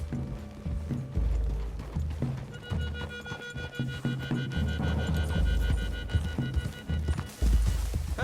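Horse hooves clip-clopping in Red Dead Redemption 2 as riders move through trees toward a clearing, with steady hoofbeats over ambient game sounds and a faint mechanical ratcheting.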